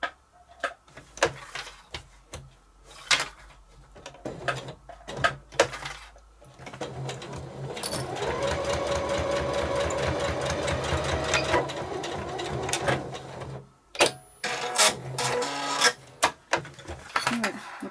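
A sewing machine stitches a case for a hand sanitizer gel bottle: a sustained whirring run of about five seconds in the middle, framed by sharp clicks and handling taps before and after, with no talk.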